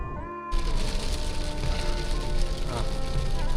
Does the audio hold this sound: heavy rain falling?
yes